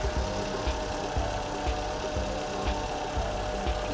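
A vehicle engine idles steadily after a jump start from a batteryless jump starter, a close, constant rumble with regular low pulses and no voices.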